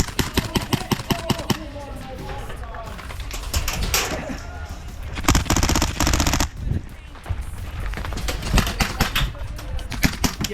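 Airsoft guns fire in rapid bursts of sharp clicking shots during a game at an outdoor site in Crawley, with fast rattling volleys and pauses while players talk.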